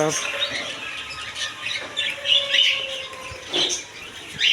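Cockatiels squawking at a busy bird and pigeon market, harsh calls rising over a steady crowd murmur and other birds chirping nearby, with voices talking in the background.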